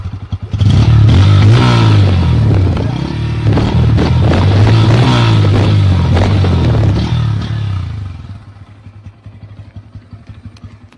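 A Bajaj Pulsar N160 motorcycle engine runs loud and close with a steady throttle and low rumble, then cuts off, leaving a quiet tail.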